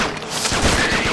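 Rapid-shot gunfire in the Xbox 360 shooter Attack of the Movies 3D is a loud, continuous burst of closely spaced shots, with no voices.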